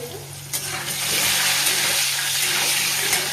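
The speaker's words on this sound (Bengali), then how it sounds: "লাল লাল করে ভাজা হচ্ছে" Steady crackling sizzle of food frying in hot oil, loud and close, with a low hum underneath and a few clinks.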